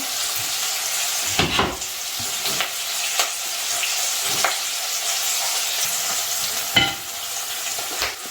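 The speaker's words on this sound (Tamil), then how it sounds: "கொஞ்சம் வெங்காயம் சீக்கிரமாக வதங்கிறதுக்காக உப்பு ஆட் பண்ணிக்கலாம்." Onions sautéing with salt in a pan, a steady close sizzle with several sharper scraping stirs of the spoon across the pan at intervals, no voices.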